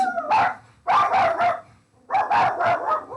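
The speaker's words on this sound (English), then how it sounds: "excuse my dogs barking there" Several dogs barking at another dog in a home, bursts of loud, close barks in three clusters with brief pauses between them.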